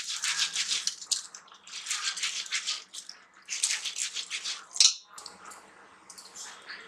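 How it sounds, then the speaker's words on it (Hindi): Dried split urad dal with skins is rubbed between both hands in repeated bursts of gritty, rustling friction, close by, with short pauses between strokes. "इसे हम दोनों हाथों से इसे अच्छे से रब करेंगे।"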